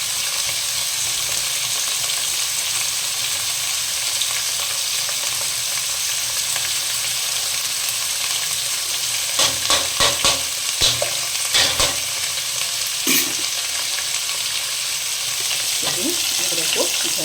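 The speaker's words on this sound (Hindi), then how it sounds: "अदरक को डाल दिए हैं, 4 मिनट में फ्राई हो जाएंगे। आलू को फ्राई होने देते हैं।" Potatoes and ginger fry in a pan, a steady broad sizzle running throughout, with a cluster of clinking stirs and scrapes in the middle and near the end; no voices.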